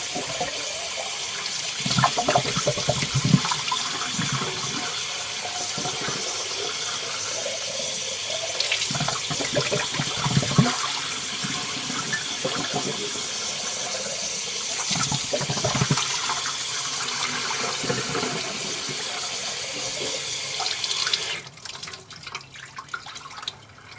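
Tap water runs steadily into a sink while a glass hookah part is rinsed under it, with splashing bursts and clinks as the glass moves through the stream, cutting off near the end.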